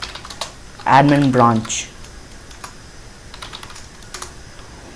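Keys on a computer keyboard tap out a git command in scattered, light clicks close by, with a short spoken phrase near the start.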